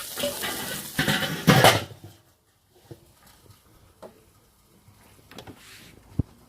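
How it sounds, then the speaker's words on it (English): Loud bursts of sirloin steak sizzling on a hot Weber Performer barbecue grill at the start, dying down to quieter crackles and occasional clanks. "You get the nice sizzle there, you can hear that"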